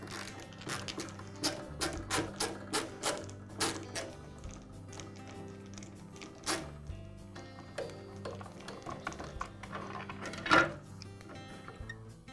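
Screws are backed out of the rear of a DeWALT circular saw handle during a power-cord repair, giving a run of small metallic ratcheting clicks and tool clatter, close and fairly quiet, with one louder knock near the end and no talk.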